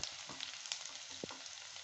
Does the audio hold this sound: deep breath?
no